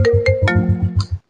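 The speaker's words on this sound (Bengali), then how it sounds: "থামা, ফোন আইছে।" A mobile phone ringtone plays close and clear, a short bright electronic melody over a pulsing rhythmic beat, ending abruptly after about a second.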